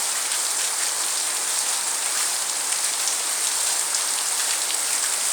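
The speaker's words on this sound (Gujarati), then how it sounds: "તો કેવો સુંદર વરસાદ પડી રહ્યો છે અત્યારે।" Steady, dense rain patters down continuously, a loud even hiss of drops with no voices or other sounds.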